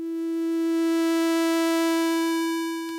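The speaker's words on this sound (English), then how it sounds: "it sounds like a sine wave with a little bit of a fuzzy noise element to it." An Ableton Live 12 synth holds a steady sine-based tone with many bright harmonics and a faint fuzzy noise layer, swelling gently in volume and ending with a small click.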